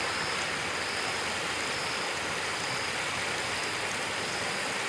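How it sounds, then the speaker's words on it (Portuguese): Rio Salgado in the Cariri region running high after heavy rain, its strong current making a loud, steady, broadband rush that fills the whole stretch without a break or any voices. "água com bastante força, ó."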